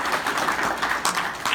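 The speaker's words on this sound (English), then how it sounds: "So we really owe Curtis a big round of applause as well." Audience applause at a transit summit in Clarksville, Montgomery County, heard as a brief, steady wash of many hands clapping at moderate volume from a mid-distance crowd.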